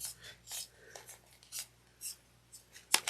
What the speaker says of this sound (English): I'm just going to trim it down to about 1/8 of an inch.